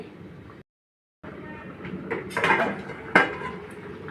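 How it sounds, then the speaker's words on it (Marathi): Metal pot lid set down on a cooking pot of vegetable curry, giving a clattering clank near the end among other kitchen knocks and scrapes, with a brief silent gap early on. "आता मी झाकण ठेवून भाजी शिजवून घेते।"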